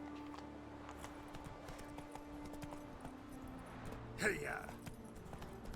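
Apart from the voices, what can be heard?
Roach the horse galloping in the video game The Witcher 3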